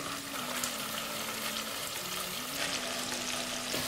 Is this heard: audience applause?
no